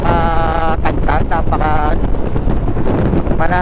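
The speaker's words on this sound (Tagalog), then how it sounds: "Hangin." Wind buffets the microphone of a motorcycle rider on the road, a loud constant roar across the whole clip, with a voice talking over it.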